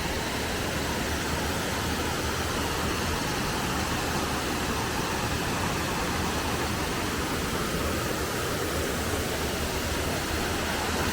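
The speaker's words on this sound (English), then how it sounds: "And this is the other side of the waterfall." A waterfall on the West Highland Way in Scotland, heard as a loud, constant broadband roar of rushing water close by, unbroken for the whole stretch with no voices.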